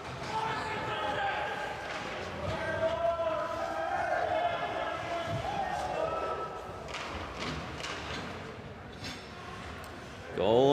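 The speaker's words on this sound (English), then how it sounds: "The crowd's gone wild." Hockey arena crowd roaring after a goal, a broad sustained cheer with scattered thuds and shouts, a commentator talking over it and a sharp loud burst at the very end.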